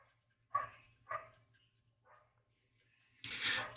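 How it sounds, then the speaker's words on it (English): A dog barks two sharp times nearby, then a softer yip follows, and a louder burst comes near the end, heard over a steady low hum. "Shut up, dog. Barking dog."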